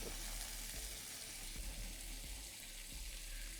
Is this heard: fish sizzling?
yes